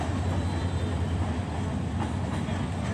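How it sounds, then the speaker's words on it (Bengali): A commuter train from Dewanganj rolls slowly past the Gate Par level crossing toward Jamalpur railway station, a continuous low rumble of wheels and carriages without distinct clacks. "দেওয়ানগঞ্জ থেকে ছেড়ে আসা কমিউটার ট্রেনটি এখন গেট পার অতিক্রম করে স্টেশনের দিকে এগিয়ে চলেছে।"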